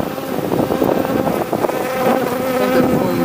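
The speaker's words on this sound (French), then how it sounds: "elles font un bruit caractéristique des ruches orphelines" Honeybees buzzing steadily in a queenless swarm hive, a dense continuous hum close to the ear with a slight rising swell toward the end.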